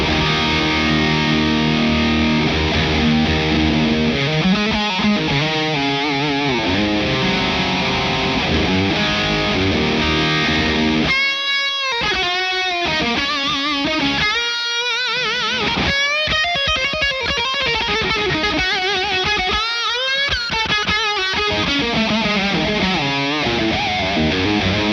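An electric guitar plays a distorted lead line through a Victory V4 Kraken amp, gain 2 channel with reverb, loaded into a TwoNotes cab simulation. Sustained notes, bends and quick runs play alone and continuously.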